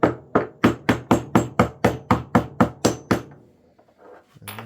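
About a dozen sharp metallic hammer taps driving a pin into an AR-10 rifle bolt assembly, in a steady, even rhythm, loud and close, then a short quiet stretch.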